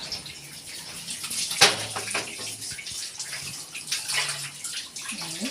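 Hands are washed under running tap water, a continuous close splashing and trickling stream with small surges and no clear speech.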